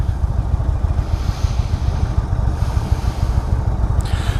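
A 2016 Indian Roadmaster motorcycle engine runs with a steady, loud, close low rumble and slight pulsing, no voices over it.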